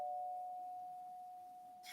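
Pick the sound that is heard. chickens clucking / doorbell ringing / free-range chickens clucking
doorbell ringing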